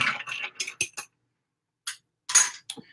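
Cocktail stirred in a mixing glass, bright clinks and ticks of the spoon against glass in short irregular bursts separated by a silent gap.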